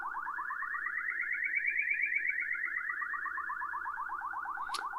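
A signal generator sweeps through a warbling, pulsing tone that slowly rises and then falls in pitch, a steady science-fiction wobble heard clearly on its own over a faint hum, ending with a short click.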